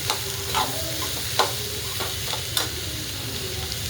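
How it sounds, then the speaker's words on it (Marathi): Chopped onions sautéing in hot oil with cumin and mustard seeds for tomato chutney, a continuous low sizzle with a few sharp spoon scrapes against the pan, near and without speech. "आपला कांदा छान असा परतून निघतोय"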